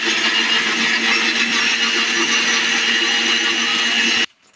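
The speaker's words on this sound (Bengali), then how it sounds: "মশলাগুলো আমরা বেটে নেব ফার্স্টে।" Whole spices whirring in an electric grinder for a fish curry, a loud steady high-pitched motor drone that cuts off abruptly near the end.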